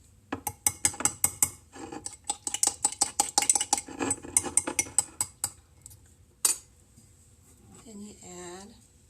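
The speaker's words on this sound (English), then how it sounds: "I mix up the egg a little bit" An egg is mixed in a bowl with a utensil, producing a quick series of sharp clinking strikes against the bowl that speed up, then pause, followed by one last clink and a brief voice.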